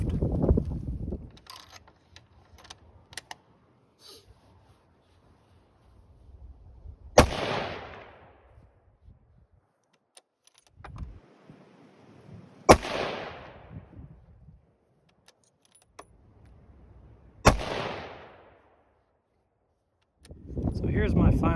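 Three sharp, loud rifle reports from a Tikka chambered in 6.5 PRC, spaced about five seconds apart, each with a short outdoor decay and quiet gaps between.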